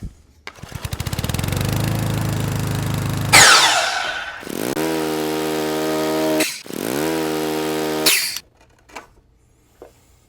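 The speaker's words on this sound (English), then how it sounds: "I'm going to make quick work of that at the miter box." A powered miter saw spins up and cuts off waste wood, giving a loud whining buzz, then two more rising whirs with quick cuts before it winds down, followed by a few faint knocks.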